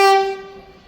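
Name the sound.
Vande Bharat train arriving, horn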